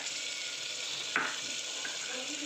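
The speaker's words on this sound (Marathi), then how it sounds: "आणि काळा मसाला आणि चिरलेली कोथिंबीर ह्यालाही चांगलं छान फ्राय करून घेऊया" Turmeric, black masala and chopped coriander fry in a pan for matki rice, giving a steady close sizzle with one brief stirring scrape in the middle.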